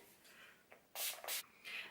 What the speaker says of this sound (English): take my beauty blender and I'm going to spritz it with a little bit of setting spray